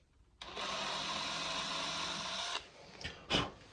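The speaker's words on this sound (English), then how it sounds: "I'm going to re-drill these holes and make them 3/32." A small power drill whirs steadily for about two seconds while re-drilling 3/32-inch holes in a wooden dowel for a guitar fretboard, then stops, followed by a few short scrapes and clicks close by.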